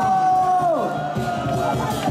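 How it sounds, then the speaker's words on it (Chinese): Crowd cheering and whooping at a temple fair lion and dragon dance performance, a loud, continuous mass of voices filling the space with a few shouts rising above. "俾啲喝彩聲嚟睇下都得㗎噃"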